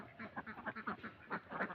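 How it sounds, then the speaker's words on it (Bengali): Ducks on a Bangladeshi egg-laying duck farm quacking in a quick, overlapping chorus, rhythmic and fairly faint. "এগুলান প্রথম আমার হাঁসগুলা ছিল, এখনো আছে।"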